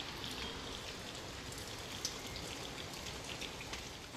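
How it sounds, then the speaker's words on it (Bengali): Heavy rain pours steadily outside at night, a dense continuous hiss with scattered louder drops striking nearby surfaces, with no voices. "বাইরে দেখো হচ্ছে কি পরিমাণে বৃষ্টি"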